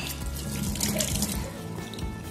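Warm tap water runs steadily into a sink while a glass jar is scrubbed clean with a scouring pad, a close, continuous splashing stream with small clinks and shifts, and no voices.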